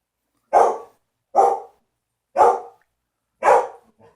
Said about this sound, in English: Pardon him, he never normally barks that long.